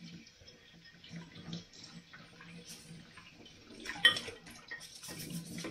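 Dishes washed by hand at a sink with running tap water, soft splashing and occasional clinks of crockery, faint and close, one louder knock midway.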